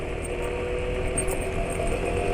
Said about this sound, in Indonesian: Suara mesin makin halus, walau dia masih belum sangat halus.